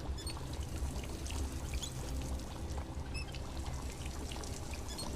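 Water pours steadily from a faucet in Dishonored 2, a continuous close splashing stream running without pause for a few seconds, with no talk over it.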